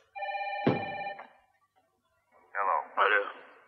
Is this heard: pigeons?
no